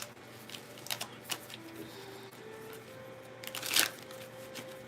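Tarot cards are shuffled by hand in quiet, soft riffles and taps in short bursts, close but faint, with a louder flurry near the end.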